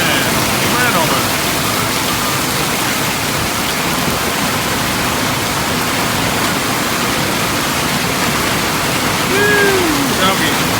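Heavy rainwater rushes and roars steadily across a flooded cornfield after prolonged rain, a dense continuous wash with a voice faintly present near the end.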